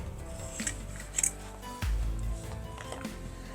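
A few crisp metallic snips and clicks as gardening scissors are handled, with light rustling and a low thump in between.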